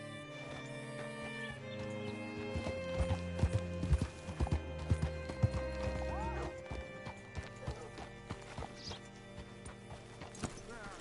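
A horse's hooves clip-clop at a steady walk in the video game Red Dead Redemption II, close and clear over a musical score, with a whinny and a few muffled game sounds around them.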